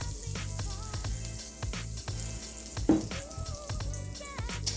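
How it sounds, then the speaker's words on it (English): A vegan pancake fries in margarine in a pan on a stove, a soft steady sizzle with a few light scrapes and clinks, fairly quiet and close, with no talking. "We're gonna see how it fries."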